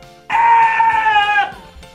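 In Super Mario Land on the Game Boy, the sphinx-like boss lets out a sheep-like bleat when it takes damage: one loud, wavering electronic cry of about a second, starting suddenly and then trailing off.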